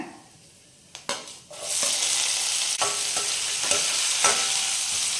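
Vadagam and small onions drop into hot oil in a clay pot for fish curry, starting with a few knocks and clatters and then turning into a loud, steady frying sizzle up close, with no voices.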